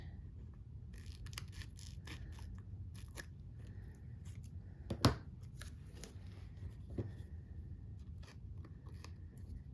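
Quiet, close Tim Holtz scissor snips cut through paper, a few crisp clicks scattered over a soft background hiss.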